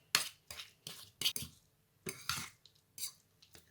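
Utensils clinking and scraping against a dish while stirring baba ghanoush salad, a dozen or so separate close, bright strikes in an irregular rhythm, no voices.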